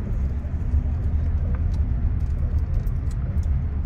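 A car rolls into a golf driving range in Ocala, Florida, its engine rumbling low and steady from close inside the cabin for the whole stretch.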